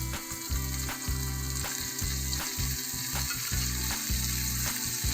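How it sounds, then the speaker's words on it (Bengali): Tuna frying in a pan with chopped dal, a steady close sizzle with occasional stirring scrapes over a continuous low hum, without talk. "ভালো করে টুনাটাকে সহ ভেজে নিতে হবে।"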